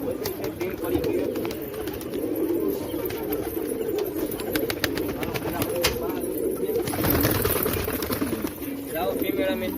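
Pigeons coo in a crowded pigeon house, a steady close chorus of low cooing with occasional wing flutters, while someone talks over the birds throughout.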